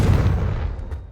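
Explosives fire in the video game Hogwarts Legacy, a loud, deep rumbling boom that fills the whole moment and slowly fades without a break.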